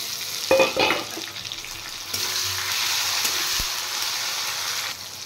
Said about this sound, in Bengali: পেঁয়াজ ফ্রাই হয়ে গেছে, এবার দিয়ে দেব টমেটো